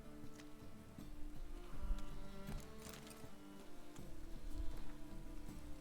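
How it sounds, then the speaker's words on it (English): Rain falling in the video game Witcher 3, a soft continuous patter of drops on surfaces with scattered light ticks, fairly quiet and steady throughout with no talk over it. "Looks like rain."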